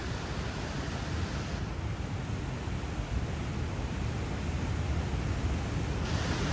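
Wind blows near the Nigardsbreen glacier in Norway, a loud, continuous broadband roar buffeting the microphone without a break.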